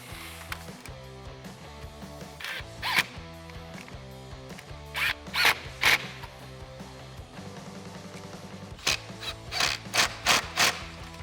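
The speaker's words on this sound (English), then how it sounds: "I can line up all my clamps, and I'll go through with my 8mm socket and tighten them down" 8mm socket tightening the clamps on a cold air intake in a 2019-2022 Silverado 1500 5.3L, heard as close, quiet ratcheting bursts and small metallic taps in irregular clusters, growing busier toward the end.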